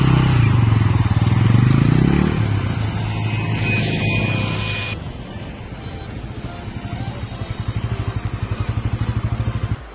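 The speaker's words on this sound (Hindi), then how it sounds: "मिलते हैं बाइक चलाते हुए।" A Bajaj Pulsar N160 motorcycle being ridden, its engine a loud steady drone with a rising rev early on, then settling into a rhythmic pulsing idle-like throb toward the end, no talk over it.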